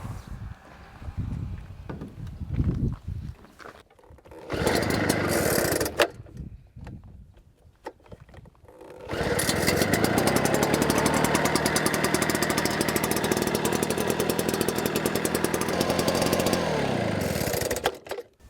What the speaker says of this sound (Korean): 시동을 한번 걸어 볼게요.